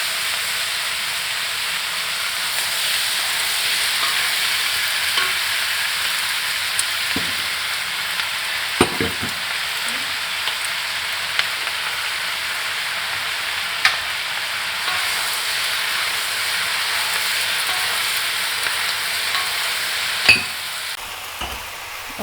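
Celery and mushrooms for mixed veg noodles fry in a pan with a steady, continuous sizzle and hiss, broken by a few faint clinks and stirring knocks.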